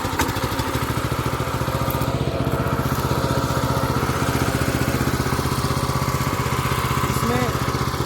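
A power tiller engine runs with a steady, close mechanical chug and rapid rhythmic clatter throughout. No voices are heard.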